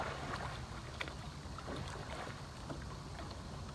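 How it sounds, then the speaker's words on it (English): A kayak paddled quickly through the water gives a continuous rushing wash with faint splashes from the strokes, distant and steady with wind noise and no talking. "And I can make that boat fly through the water."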